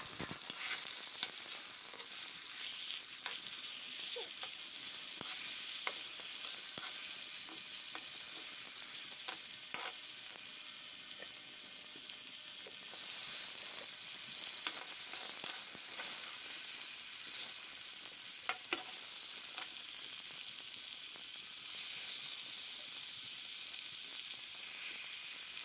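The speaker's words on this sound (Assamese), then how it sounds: "এতিয়া মই চিকেন লেগ পিচখিনি ভাজি ল'ম তেলত।" Chicken leg pieces fry in hot oil, giving a steady, bright sizzle and hiss that runs throughout, broken by occasional stirring clicks and a brief surge in the crackle partway through.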